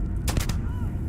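A single gunshot from the Starfield video game, a short loud blast with a brief ringing tail over low steady game background noise.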